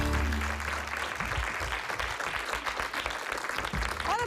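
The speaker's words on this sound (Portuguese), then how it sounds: "Muito obrigada, um grande aplauso." A studio audience applauds on a Portuguese afternoon television show, a dense steady clapping that carries on for several seconds without talking.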